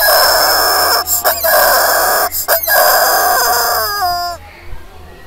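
A squeezed rubber chicken toy lets out loud, sustained squawking screams in several bursts with brief pauses, the last squeal dropping in pitch as the air runs out.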